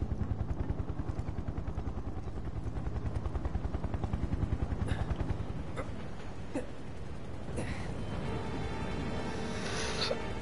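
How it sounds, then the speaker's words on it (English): Helicopter in the Final Fantasy 7 Remake video game, a steady rapid rotor chop thumping throughout at moderate loudness, joined near the end by sharp bursts resembling gunfire and impacts, with no talking. "You gonna come out of the helicopter, Reno?"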